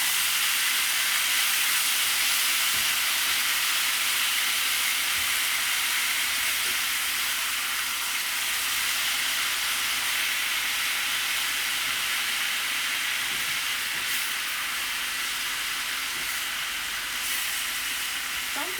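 Potatoes fry in peanut oil, a loud, continuous sizzling hiss that holds steady throughout, broken only by a few faint stirring sounds.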